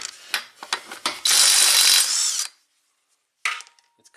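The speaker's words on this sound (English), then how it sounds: "I'm loving this REVVSTARK impact wrench." A REVVSTARK impact wrench removes lug nuts from an '85 Oldsmobile: a few short rattling bursts, then one loud sustained hammering burst of about a second, silence, and a final brief burst, all close up.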